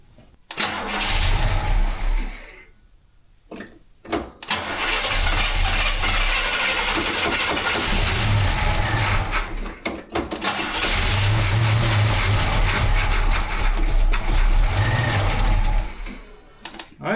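A 1968 Camaro SS 396 parked for 26 years cranks over with rapid starter chatter, sputters, stops, then catches and runs rough and loud, the big engine surging unevenly with more cranking bursts between.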